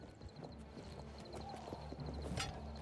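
Horse hooves clip-clop in Oblivion Remastered, a steady rhythmic trot of soft clopping steps over a low ambient rumble, with a brief brighter burst near the end.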